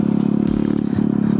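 A TVS Apache RTR motorcycle accelerates through thick mud on an off-road ride, its engine a loud, close, steady throbbing drone with rapid regular pulses and a brief clattering splash midway.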